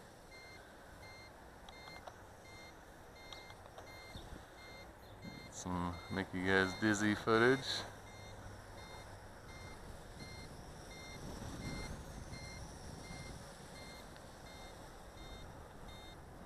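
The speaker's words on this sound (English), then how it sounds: "the transmitter beeps the whole time while it's filming" Beeping from a HongTai HT F802C RC drone transmitter, a faint repeating tone through the whole stretch and a louder burst of warbling chirps near the middle, with a person talking over it.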